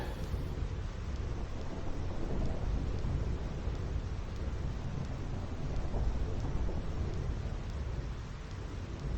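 A thunderstorm on the Thunder Plains in the video game Final Fantasy X: dense, loud rain and deep rumbling thunder roll on continuously without any voices.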